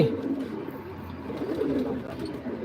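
Pigeons coo softly and continuously in a low, rolling murmur, fairly close, with faint background chatter.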